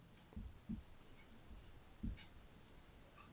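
Quiet strokes of writing on a board or paper while a lesson on rational and irrational numbers goes on, short scratchy marks coming in small irregular bursts with no talk over them.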